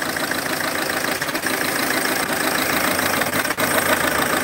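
A 2005 Suzuki Grand Vitara 2-litre diesel engine idling, a steady, dense mechanical rumble with faint knocking texture, close and continuous throughout with no speech.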